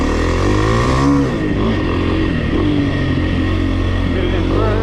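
Dirt bike engine revving hard and continuously at close range while climbing a dry waterfall, the throttle held steady with rising and falling pitch, under occasional voices.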